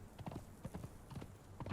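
Horse hooves clip-clopping in the Conan Exiles game, a steady run of close hoof strikes continuing throughout.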